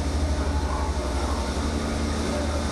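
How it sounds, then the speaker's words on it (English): A Leeds-bound train rumbles past close by, a steady heavy roar with low mechanical drone throughout. "Excuse me whilst the Leeds train drives past me."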